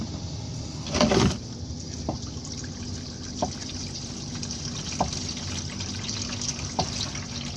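Engine oil draining from a 2010 Subaru Legacy 2.5L into a pan, a soft steady trickle with occasional faint drips and a brief louder splash near the start.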